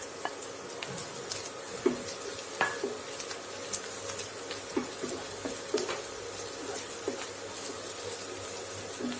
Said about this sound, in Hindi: इसमें हम ये कटी हुई हरी मिर्च डाल देंगे।